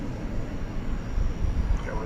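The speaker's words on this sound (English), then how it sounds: "American flight 1599 to San Antonio, Texas. A 737-800 on runway DFW after dark." An American Airlines Boeing 737-800 jet on a runway at DFW airport at night, a low steady engine roar with rumbling swells, heard from a distance.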